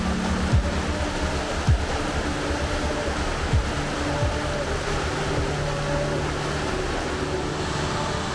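River rapids rush over rocks in a steady broadband roar, close and continuous, with faint intermittent tones and a low rumble from a nearby motorcycle and road setting.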